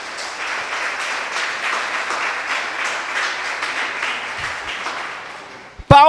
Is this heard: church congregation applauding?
yes